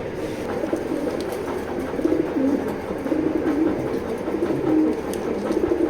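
A male racing pigeon calling in a loft, soft repeated coos low and steady against a constant background hum, close by, with no one talking.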